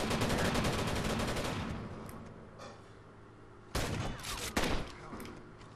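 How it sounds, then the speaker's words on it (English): Shotgun blasts in the video game Rainbow Six Vegas 2: a dense run of loud, rapid gunfire at the start, fading into quiet, then two more sharp, close bursts near the end. "Thank you for using your shotgun at extreme distances."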